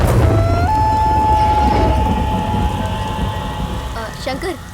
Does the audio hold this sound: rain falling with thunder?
yes